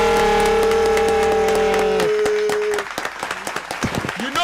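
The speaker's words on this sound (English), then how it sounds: "put your hands together for Bank of Africa" Audience applause at a live football show event greets a sponsor, rising as loud sustained musical tones fade out and continuing as scattered, fairly close clapping.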